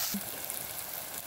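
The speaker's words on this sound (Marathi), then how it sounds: "कांदा तेलात भाजत आलाय आता टमाट टाकतो. टमाटो बी तेलात चांगलं भाजून घ्यायचं." Onion and tomato fry in oil in a pan over a wood-fired chulha, a brief, steady close sizzle with no talking.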